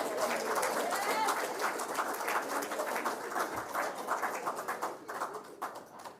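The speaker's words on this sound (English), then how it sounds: "Could we have a round of applause for Dr. Harris?" Audience at a monthly press conference applauding a guest speaker, a steady round of clapping that gradually thins and tapers off toward the end.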